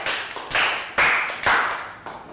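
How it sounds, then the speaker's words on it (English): Applause for a student in a Year 3 English class: four separate bursts of hand clapping from a small group, each a sharp onset that fades quickly, with no talking between. "Round of applause for Park Boon."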